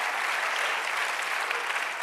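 A church congregation breaks into dense, sustained applause after a call to praise the Lord, steady and fairly loud across the whole stretch with no voices over it.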